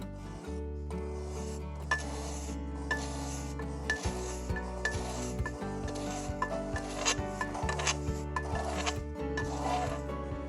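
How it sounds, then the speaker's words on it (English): Excess Jahn repair mortar being screeded and scraped off a surface, a repeated rasping scrape in short strokes over a steady low hum, fairly quiet and close. "let's take a look at what the color reveals once I screed and scrape off"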